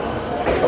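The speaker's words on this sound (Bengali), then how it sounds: "7 নম্বরের ট্রেন আমাদের ঢুকছে চন্দনপুর লোকাল।" A Chandanpur local train pulls into platform 7 at a busy station near Kolkata, a steady low rumble that swells slightly toward the end of the short moment.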